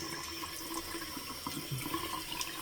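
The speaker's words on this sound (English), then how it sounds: "Just spill some water slowly." Waterfall-style bathroom faucet letting water spill slowly into the basin, a steady soft splashing and hiss that runs continuously and fairly quietly, with no one speaking.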